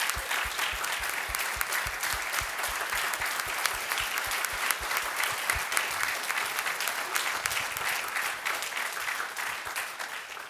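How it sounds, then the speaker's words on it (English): A large audience at a school-campus event stands and gives a sustained round of applause, dense steady clapping filling the room for about ten seconds, with a few faint voices mixed in. "If y'all could just stand up and have a round of applause for you all."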